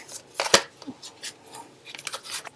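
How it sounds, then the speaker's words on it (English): Quick papery riffles and slaps of tarot cards being shuffled, several short bursts with brief pauses, close up and fairly quiet. "so let's just shuffle these a couple of more times."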